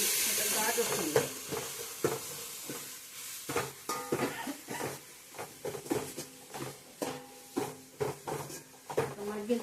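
Food is stirred and fried in a pan for bendakaya pulusu, okra tamarind stew, with repeated scraping strokes over a soft sizzle and clanks of the utensil against the pan.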